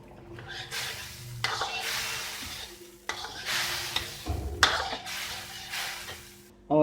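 Boiled dal mash tipped into hot, ready masala for dhaba-style fried dal sizzles in the pan while a spoon stirs it in repeated scraping strokes, loud and close, with a steady hiss underneath.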